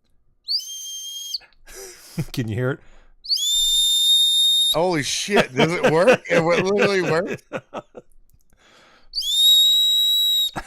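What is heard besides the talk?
small 3D-printed whistle being blown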